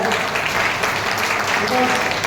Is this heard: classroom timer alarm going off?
no